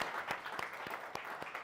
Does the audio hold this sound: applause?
yes